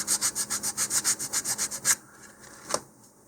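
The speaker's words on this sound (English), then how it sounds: "I'm just going to do a little tiny bit of sanding right here" Close, rhythmic hand sanding on a wooden model rocket part: about a dozen quick, even scratchy strokes, then it stops and a single faint scrape follows.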